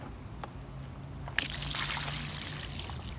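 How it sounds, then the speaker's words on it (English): Warm water pours from a container over a dog during its bath, starting as a faint trickle and turning into a steady splashing pour partway through, heard up close. "take the water, pour it on your dog."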